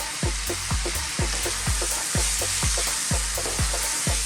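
Chopped onions and garlic ginger paste sizzle steadily in a hot pan for a beef curry, a continuous loud frying hiss broken by regular thuds and scrapes of stirring, with no talking.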